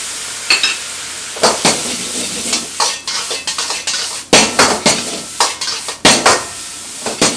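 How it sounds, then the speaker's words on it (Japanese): Lettuce fried rice is stir-fried in a wok with soy sauce poured down the hot sides, loud sizzling punctuated by repeated sharp scrapes and clanks of a metal spatula against the pan. "大さじ1杯分の醤油入ります。 鍋肌からじゃあ、"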